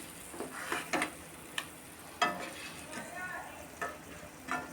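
Onion masala fries in a kadai with a soft, steady sizzle, while a spoon scrapes and stirs at intervals, making light knocks and clinks close by.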